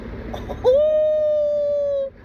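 A turbocharged Honda Civic R18 engine lets out a loud, sustained high whistle lasting over a second, the turbo's blow-off and induction sound standing clearly above low engine rumble.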